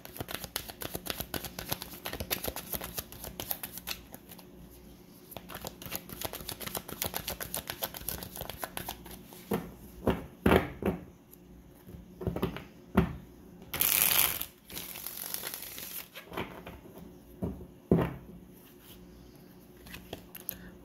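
Tarot cards shuffle at close range, with rapid riffling flutter at first and then a series of separate sharp card slaps and brief shuffles.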